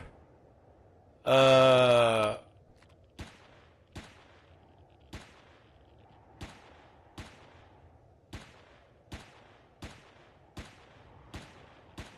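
Auto pistol shots in the sci-fi survival game Empyrion Galactic Survival, about a dozen sharp single cracks spaced roughly half a second apart, following a short burst of loud tonal game noise, with no talking.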